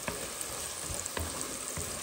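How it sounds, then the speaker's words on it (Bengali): Onions frying in oil for duck curry, a dense, continuous sizzle close by with a few soft stirring knocks and no voices. "পেঁয়াজটা এখনো ভাজা হয়নি, আরও ভাজবো।"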